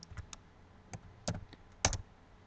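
Several scattered computer keyboard keystrokes as a command is typed into AutoCAD, quiet and close, irregular clicks with a couple of quick double taps near the end, no talking.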